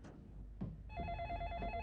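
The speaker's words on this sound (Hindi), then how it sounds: "घंटी बज रही है, कोई ना कोई तो उठाएगा ही।" A household telephone bell rings loud and close in a Hindi TV drama scene, its bright sustained tone starting just after a couple of soft thumps and continuing to the end.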